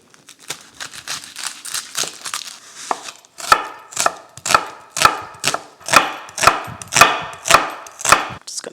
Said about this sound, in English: And now we're going to slice up 2 red onions.